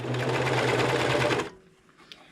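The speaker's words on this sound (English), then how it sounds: "But I like the way this looks with the serger, so I'm just going to put this under here, get it started, tack it down" A serger overlock sewing machine runs fast, close and loud, stitching fabric for a hair scrunchie for about a second and a half, then stops, leaving only faint handling noise.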